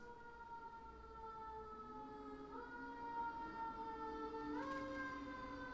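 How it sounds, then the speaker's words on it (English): Wailing air-raid style sirens sound in the strategy video game Civilization VI, several steady tones stepping upward in pitch together, loud and continuous throughout with no talking. "They're sounding the sirens because there's a lot going on."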